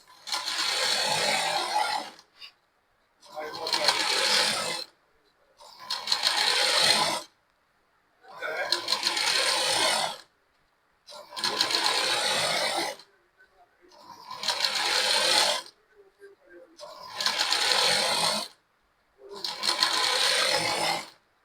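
A sewing machine stitches invisible piping onto the back part of a blouse, running in eight separate bursts of a few seconds each with short silent pauses between them, close and fairly loud.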